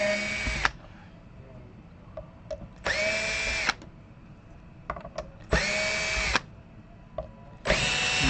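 A power drill runs on a Squire Stratocaster electric guitar in four loud, steady bursts of about a second each, with brief quiet gaps and small handling clicks between them.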